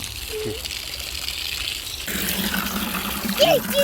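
Water gushes from a tap into water guns at close range, a rushing flow that thickens and grows louder midway, with brief voices over it.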